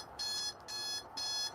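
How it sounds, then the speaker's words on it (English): A Mii alarm sounds in a video game: three bright electronic beeping bursts in quick succession, loud and close, with no talking over them. "The Mii alarm is going off!"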